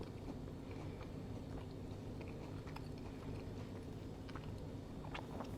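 Quiet, close crunchy chewing of a flaky buttermilk biscuit made with butter-flavored shortening and topped with butter, soft bites under a faint background hum.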